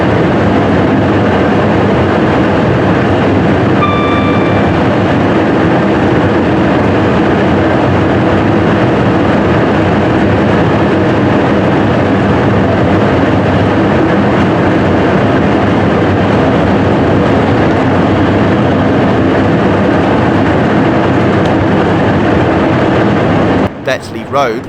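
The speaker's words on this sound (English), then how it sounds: "Pass a Freightliner Class 66, hauling an empty ballast train" From a driver's cab, a Freightliner Class 66 hauling an empty ballast train passes on the line between Birmingham and Liverpool, giving a steady loud rumble of wheels and rail noise throughout, ending with a few rattling clanks.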